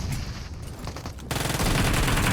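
Gunfire in a shooting video game comes as scattered shots that give way to a dense, continuous loud burst of rapid fire in the second half.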